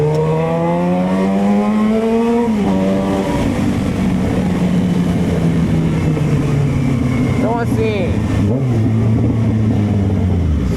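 A Yamaha XJ6 motorcycle engine with a closed exhaust revs up in rising sweeps, drops back, then climbs again, loud and close, while someone speaks briefly over it.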